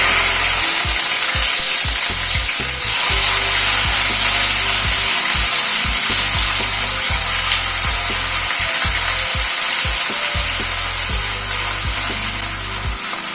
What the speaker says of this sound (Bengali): পেঁয়াজটাকে প্রথমে একটুখানি হালকা করে একটু কষিয়ে নেব।